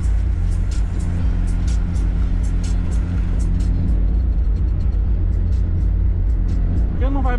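A car, called a Mirage, passes along a road amid steady traffic rumble and engine noise, continuous and fairly loud, while people talk over it.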